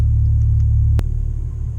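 2016 Ford Focus RS engine pulling on a drive, a loud steady low drone that holds, then drops off abruptly after one sharp click as the throttle is released.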